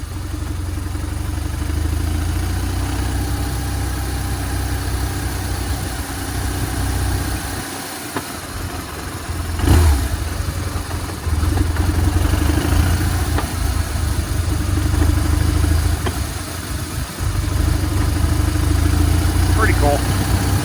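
A BMW GS motorcycle engine idles with a steady low rumble throughout, one brief louder bump near the middle; the bike has an oil leak and a worn clutch awaiting repair.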